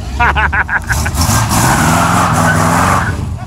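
A GM car engine at a hot car show revs loudly nearby, roaring at a steady, sustained pitch, while people talk briefly at the start.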